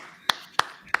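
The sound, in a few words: slow clap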